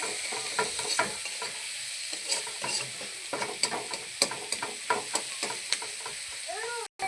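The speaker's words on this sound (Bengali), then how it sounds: "লাল করে ভাজা হবে পেঁয়াজটা আমার লাল করে ভাজা হয়ে গেছে" Onions frying in oil with a half spoon of salt, a steady close sizzle with repeated scraping and stirring clicks from a spatula in the pan.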